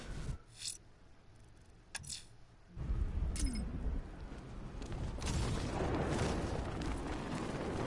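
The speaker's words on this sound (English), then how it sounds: "That explosion was something else." A deep rumbling blast from an explosion in the video game Batman: Arkham Knight swells up after a few faint clinks and then sustains as a loud, rolling roar.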